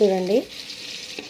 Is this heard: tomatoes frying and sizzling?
yes